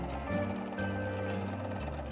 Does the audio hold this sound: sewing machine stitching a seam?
yes